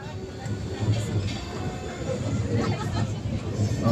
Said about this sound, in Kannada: ಈಗ ಟ್ರೈನ್ ಬಂತು ನೋಡಿ, ಫುಲ್ಲು ರಶ್ ಇದೆ